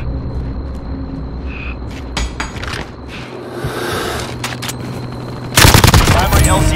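Video game gunfire in Call of Duty Warzone on PS4 comes as scattered shots and bursts under radio-style game voice lines, ending in a loud, dense volley near the close.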